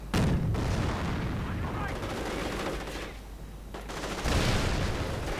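Dense World War II strategy game battle with Panzergrenadiers, continuous rattling gunfire and booming mortar impacts filling the scene loudly, with sustained crackling and surges of explosive rumble.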